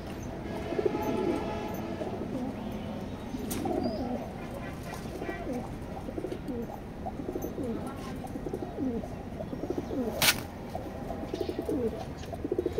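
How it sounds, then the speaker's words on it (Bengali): Racing pigeons in a loft coo in low, repeated rolling calls, close by and fairly quiet, with a few sharp chirps and faint background noise mixed in. "খুবই ভালো মানের কবুতর"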